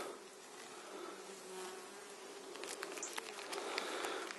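A colony of black honeybees in Normandy hums as a soft, steady, distant buzz with brief rising wing sounds toward the end, alone without talk.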